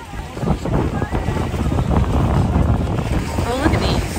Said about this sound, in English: I know y'all probably can't hear me that well because there's a lot of wind.